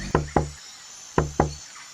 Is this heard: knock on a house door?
yes